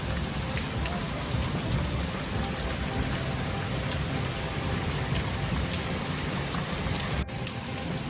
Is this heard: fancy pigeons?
no